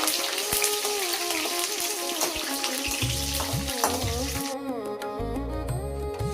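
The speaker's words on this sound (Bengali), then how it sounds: "প্রথমেই ভেজে তুলে নেব কাজু ও কিশমিশ" Cashews and raisins fry in white oil with a dense, crackling sizzle that fills the whole stretch, close and loud, with brief bursts of music-like tones mixed in.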